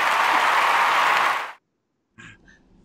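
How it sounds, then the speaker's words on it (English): A burst of studio-style applause plays during an RV maintenance podcast, dense and bright for about a second and a half before cutting off abruptly into silence, followed by a short voice. "So can we hit the applause for Kellyanne?"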